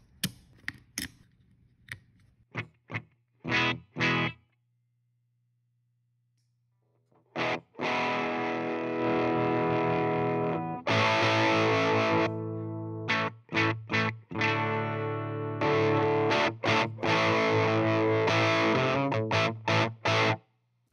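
Electric guitar played through a DIY CopperSound treble boost pedal circuit built on a breadboard with substitution boxes, giving bright, gritty distorted chords and picked notes in loud bursts with short pauses between phrases.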